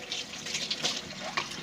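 Water is poured from a cup into washed minced beef in a pot while making matar keema, a steady close splashing and trickling that runs throughout with no talk.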